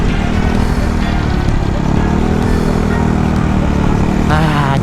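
A 2020 Yamaha Mio scooter's engine drones and revs while being ridden, a loud, steady buzz close by with wind rumble and a rising whine near the end.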